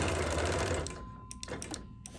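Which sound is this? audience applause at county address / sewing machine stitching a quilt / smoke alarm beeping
sewing machine stitching a quilt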